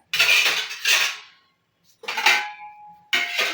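Metal dishes, pots and cutlery clatter and clang in three separate bursts as they are set down in a home kitchen after lunch, close and fairly loud, with short pauses between.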